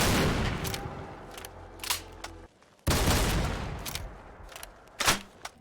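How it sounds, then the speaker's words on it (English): Shotgun blasts from a modded Caravan Shotgun in Fallout 4: a loud booming shot, a brief gap, another heavy blast, then sharp mechanical reload clicks and clacks. "replace the Caravan Shotgun firing sound and reload sound with a more powerful one, and this is what that's going to sound like"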